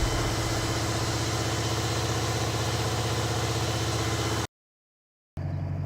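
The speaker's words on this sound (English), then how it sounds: "Detroit 8V71, the two-stroke sound." Detroit Diesel 8V71 two-stroke engine, introduced in 1957, running steadily with a dense, loud, buzzing drone, close and unbroken, then briefly cutting out before resuming.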